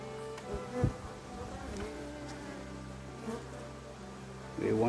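Honeybees at the hive entrance, a soft, faint buzzing drone with individual bees flying close by in brief louder passes.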